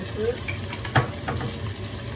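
Meatballs browning in a frying pan give off a steady, low sizzle and crackle, with a faint clink of a utensil near the middle; no one speaks over the cooking.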